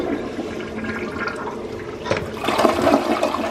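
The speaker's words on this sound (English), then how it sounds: "I guess I could flush this." A freshly bleach-cleaned household toilet flushes close by, a rushing swirl of water that builds and surges louder toward the end, with no one speaking.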